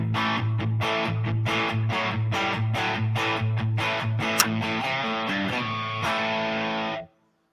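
Les Paul Junior electric guitar played through a reverb with a rev tilt tone, a steady driven riff of repeated low notes and chords for about seven seconds, loud and alone, ending abruptly into silence.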